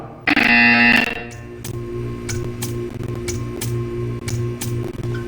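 A loud buzzer blares briefly in Portal 2, a sustained harsh harmonic tone lasting about a second, then gives way to a steady low hum with repeated faint ticking clicks.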